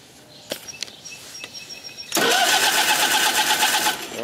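A 20hp Kohler Magnum engine on a Simplicity Sunstar tractor catches after a few faint clicks and then runs steadily with a loud, close, rumbling idle with a rhythmic pulse, no talk over it.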